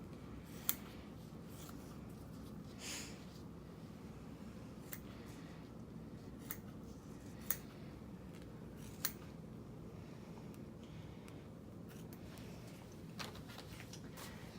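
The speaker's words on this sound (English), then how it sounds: "So we're going to cut the sponge to fit that area." Scissors snip through a wound-vac foam sponge, a series of soft, crisp cuts spaced irregularly over a steady low background hum, fairly quiet and close.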